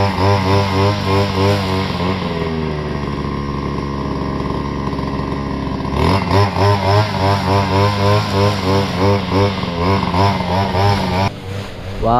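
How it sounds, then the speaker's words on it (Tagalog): Petrol grass cutter engine running loud and close, a buzzing two-stroke drone that wavers in pitch and revs up partway through, then dips briefly near the end. "nag-umpisa na si kuya na ano, na mag grass cutter"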